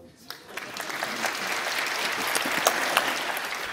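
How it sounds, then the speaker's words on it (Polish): Audience applause at a stand-up comedy roast show, a dense crowd of clapping that swells and keeps building steadily to a full, sustained ovation. "Wielkie brawa."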